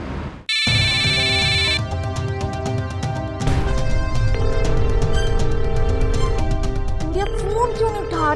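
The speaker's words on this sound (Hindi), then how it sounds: "फोन क्यों नहीं उठा रहे हो यार?" A phone ringtone rings on unanswered, a loud electronic melody with repeated tones that carries on steadily, mixed with a dramatic music score.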